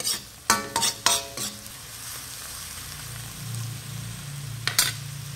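Crab (alimango) being stirred with seasoning in a metal pan: a few sharp scraping clatters of a utensil against the pan early on, then a soft simmering sizzle, with another brief scrape near the end.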